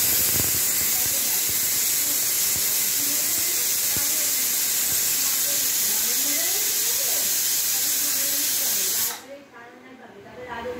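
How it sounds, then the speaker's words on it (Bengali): A pressure cooker of potatoes for a white potato curry vents a loud, steady steam hiss for about nine seconds, then cuts off abruptly, leaving a quieter room with a faint voice in the background. "দুটো সিটি পড়লো, 3 নম্বর সিটি দিয়ে বন্ধ করে দেবো।"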